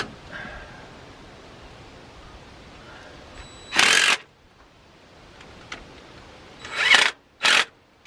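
Rocker arm bolts on a ticking engine are run down with a power driver in three short, loud whirring bursts separated by quiet pauses, close up.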